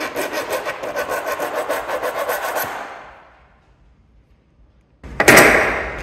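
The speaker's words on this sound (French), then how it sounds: "je vais le presser bien fort sur le bord et je vais voir si la lime peut mordre dans l'acier" A metal file is drawn hard across the edge of a hardened, quenched steel test piece, giving about two and a half seconds of rapid, rough rasping strokes. A pause follows, then one loud, sharp scrape near the end.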